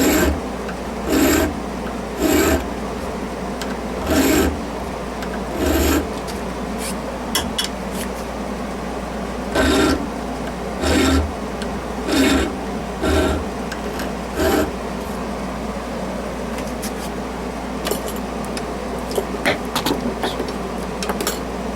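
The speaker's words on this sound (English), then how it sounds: "Just want to get deep enough and keep this file from slipping and going to places that you don't want it to go." A hand file rasps in short, separate strokes across a knife blank as a zigzag pattern is cut into it, each stroke a loud scraping burst with brief gaps between, no voices.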